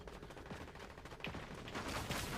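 Assault rifle fire in Fortnite crackles in rapid, faint bursts of shots. The fire sounds distant and somewhat muffled, and it continues steadily for a couple of seconds.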